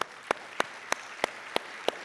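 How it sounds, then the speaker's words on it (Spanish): A church congregation claps during a sermon, producing sharp, evenly spaced claps in a steady rhythm about three per second, moderately loud with no talk over them. "Dale un fuerte aplauso al Señor"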